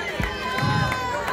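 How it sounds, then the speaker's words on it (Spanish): A church congregation claps and shouts glory during a fiery sermon, a brief dense wash of crowd noise with overlapping voices. "Mientras aplaude, grite gloria"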